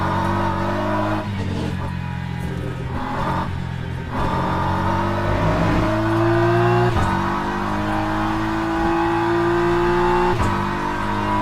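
A GT3 race car engine in the racing game Le Mans Ultimate, a Corvette or BMW at Le Mans or Sebring, drones steadily with rising and falling revs and gear changes, heard from the cockpit without talk.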